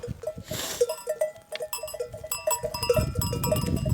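A flock of sheep, including Tahirova crossbreeds, mills about on open pasture and bleats again and again, many overlapping near and far calls in quick succession, with rustling movement of the animals beneath.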